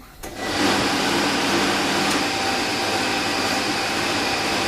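A homemade dry cell HHO gas generator starts up and settles into a loud, steady whirring hum that runs unbroken to the end.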